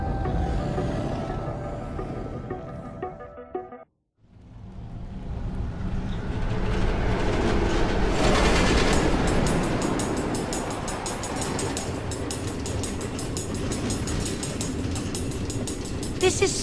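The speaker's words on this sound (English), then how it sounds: "Automated train tracks running all through the Nether?" Minecart-style trains roll along automated tracks through the Nether in Minecraft: Story Mode, a loud continuous rumble and rattling clatter that briefly cuts out, then returns swelling with dense clicking wheels.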